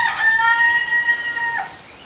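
A single rooster crows close by, one long drawn-out call lasting about a second and a half, with no talking.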